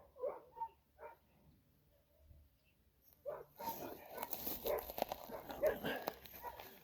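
Several dogs bark in a busy, overlapping burst from about three seconds on, after quieter scattered sounds and faint talk near the start.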